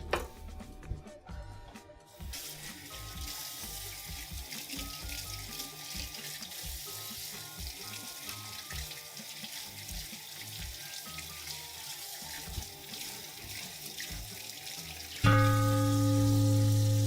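Water runs steadily from a kitchen tap for a rinse, a constant close hiss that holds without a break, then grows louder and fuller near the end as the flow changes.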